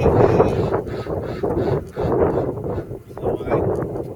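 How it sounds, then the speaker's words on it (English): Gusty wind buffets the microphone in rumbling waves outdoors, rising and falling throughout, with a voice faintly mixed in underneath. "It's a windy day,"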